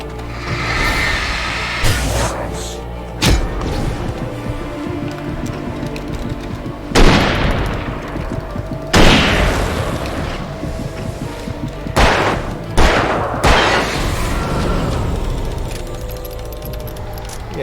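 Loud gunshots and heavy booms from a gun in the video game Alan Wake Remastered, several separate blasts spaced a few seconds apart over a rumbling game background.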